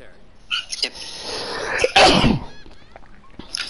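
A sharp, loud sneeze bursts out at close range in the middle of the clip, with a few quieter voices and background noise around it during a casual online racing-league show.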